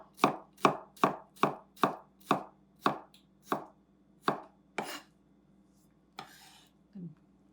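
Knife chopping cucumber very thin on a board, about a dozen crisp, evenly spaced close-up chops that slow and stop, then a couple of softer scrapes.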